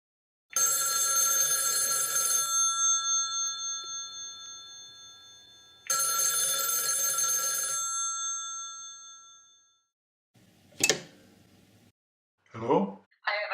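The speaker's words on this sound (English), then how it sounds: "the telephone is ringing" A bell-type telephone rings at the called end in a payphone collect-call demonstration, two long loud ring bursts separated by silence, followed by brief voice sounds as the handset is answered.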